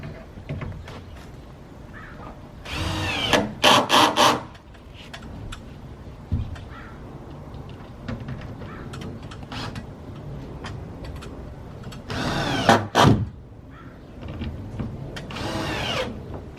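A power drill drives screws into wooden chicken coop panels in a few loud bursts, around the three-to-four second mark and again near twelve and fifteen seconds, separated by quieter handling noise.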